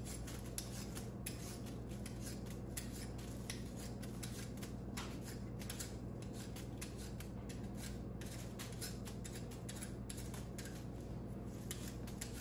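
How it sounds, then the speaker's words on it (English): Potatoes peeled by hand in a kitchen, a steady stream of quick, faint scraping strokes over a constant low background hum, with no voices. "So I gotta peel the potatoes."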